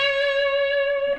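A Fender Telecaster electric guitar played through its neck pickup rings out as a single clear sustained note, bright and steady, fading slightly at the end with no talking.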